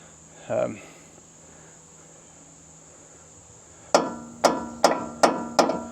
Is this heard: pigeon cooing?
no